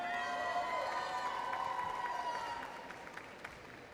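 Applause and cheering from a crowd fill a 2017 high school graduation ceremony at Trinidad Garza Early College High School, sustained and fairly distant, fading slightly toward the end.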